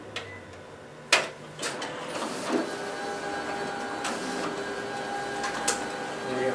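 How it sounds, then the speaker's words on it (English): A Kyocera TASKalfa 300ci copier's document feeder pulls pages through with a steady mechanical whir, broken by several sharp clacks and thumps as the sheets feed, heard up close with no voices. "Here we have our document feeder in action."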